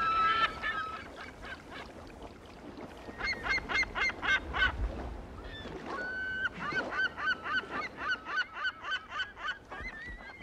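Loud, repeated calls from several California gulls, coming in rhythmic bursts close by with short pauses between them.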